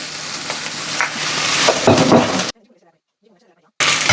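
Crushed ginger and garlic paste frying in oil while making mutton kola urundai kulambu, a steady loud sizzle with stirring scrapes, cut off by a brief silence before the sizzling returns.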